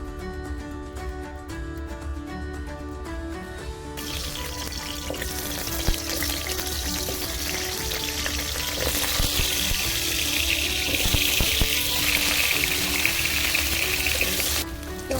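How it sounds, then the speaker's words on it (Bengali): Potatoes fry in oil until browned. A broad, rushing sizzle swells after a brief opening stretch and stays loud and constant to the end. "আলুগুলো লাল লাল করে ভাজা হয়ে গেছে"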